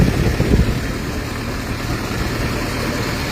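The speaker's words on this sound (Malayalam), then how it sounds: "ഇതേ ട്രാക്ടറാണ് കേട്ടോ" Tractor engine idling nearby, a steady low rumbling drone that holds even and continuous throughout, with no voices over it.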